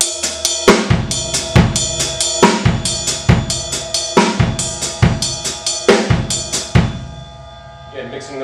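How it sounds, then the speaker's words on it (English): Drum kit playing a linear pattern, the left hand moving between hi-hat and snare drum in a Gary Chaffee 5/3 sticking; close, loud hits in a steady repeating rhythm with crisp cymbal wash, fading at the end. "I can do the of 1 with the left hand coming from the hi-hat to the snare drum."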